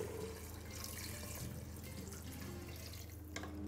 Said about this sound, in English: Now add in 1 liter of water.